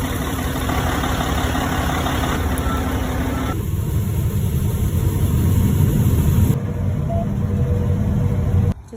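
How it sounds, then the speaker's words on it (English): A tractor pulling a grain cart during harvest makes a steady, loud, low engine drone with a rough idle-like rumble. The tone shifts partway through, and the sound cuts off abruptly at the end. "Fun today with me driving the grain cart"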